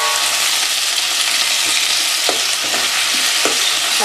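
Tomatoes and masala frying and being stirred for a jackfruit gravy, a loud steady sizzle with occasional scraping strokes of the spoon, close up and without talk.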